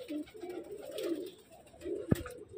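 Pigeons, including a slate-coloured breeding bird, coo softly in a loft, a few low, throaty murmurs close by, with a brief sharp knock near the end.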